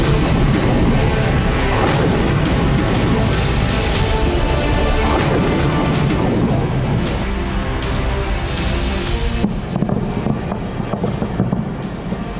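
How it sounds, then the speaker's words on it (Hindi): Explosions from an Israeli airstrike bombing in Iran: a dense, continuous roar of heavy blasts and crashing booms, loud and sustained for the whole stretch with repeated sharp impacts and no talking. "इस दौरान धमाकों की आवाज कई किलोमीटर दूर तक सुनाई दी"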